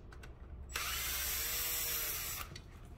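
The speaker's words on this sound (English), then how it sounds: "Let me grab the drill to make this a little more fun." A power drill with an extension whirs loudly for about two seconds in one continuous burst, removing motorcycle screws, with faint clicks before and after.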